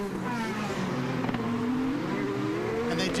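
IndyCar race car engine running in a pit lane at the Long Beach street race, a continuous rising engine whine with crowd and track ambience, no clear talk.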